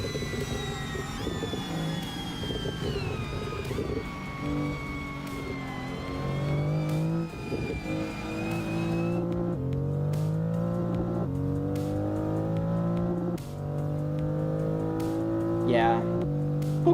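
A Volvo S60R engine drones and rises through short gears on the Nordschleife in a racing simulator, steady and loud with pitch climbing and dropping at shifts, and someone talks over it.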